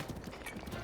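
Horse hooves clip-clop in the video game Zelda: Breath of the Wild, a quick run of faint, evenly spaced hoofbeats heard alone for under a second.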